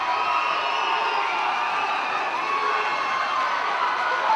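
A crowd at a high school hockey regional semifinal cheers loudly and steadily after a goal, a dense continuous roar of shouting and whooping.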